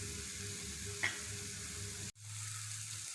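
Mozzarella cheese being stirred into a sizzling chicken pizza sauce in a pan gives a steady, faint frying hiss, with a light tap of the utensil and a brief cut-off partway through.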